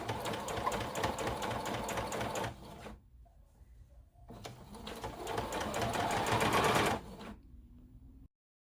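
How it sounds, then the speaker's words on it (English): A sewing machine runs steadily while stitching a twin needle hem along folded fabric, with a brief pause before the motor restarts, then it stops near the end; no talking. "Once you have completed your twin needle hemline, it will look like this"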